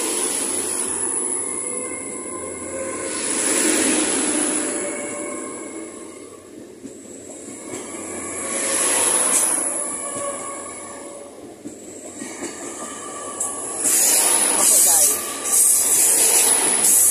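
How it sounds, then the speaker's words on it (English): A Great Western Railway train, unit 802103, departs a Cornwall station on a service to Penzance. Its rumbling engine and wheel noise swell in repeated waves, with high-pitched squealing, and grow louder toward the end. "Parting out now is 802103. On Great Western Railway service, 1 Charlie 76 to Penzance."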